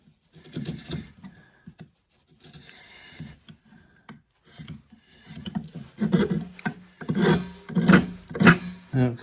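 A wooden guitar neck's dovetail heel has its corners cut away by hand, giving close rasping, scraping strokes in irregular bursts with short pauses, growing louder and quicker toward the end.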